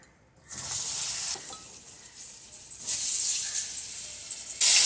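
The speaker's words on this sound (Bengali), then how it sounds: "তেলটা নাড়িয়ে তারপরে দিয়ে দেব পটলটা" Pointed gourd (potol) sizzles in hot oil seasoned with turmeric and salt. A loud, steady frying hiss starts after a short quiet opening and swells again near the end, with light stirring throughout.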